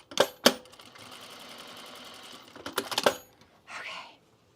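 A sewing machine stitches down a seam on a pajama top, a short, even whirring run between sharp clicks and clunks of handling, ending in a brief rustle.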